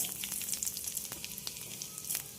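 Whole cumin seeds sizzle and crackle in hot oil in a pan with a few small pops, a steady close, moderately loud frying hiss with no voices.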